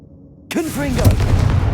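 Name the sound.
Confringo explosive spell cast in the video game Hogwarts Legacy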